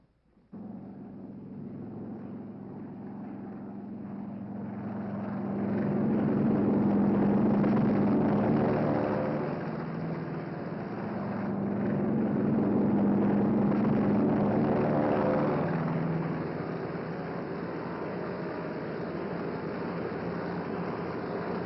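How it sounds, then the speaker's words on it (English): Carrier air group planes launch from a flight deck in a strong trade wind, a sustained engine drone that swells and ebbs in two broad waves, heard in a 1945 recording. "Our entire air group thunders out behind the group commander."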